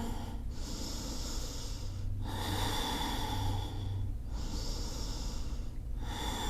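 Slow, steady breaths held through a yoga warrior II pose, each long inhale and exhale rushing loudly and close with a slightly nasal, snorting edge, about three full cycles with no talking.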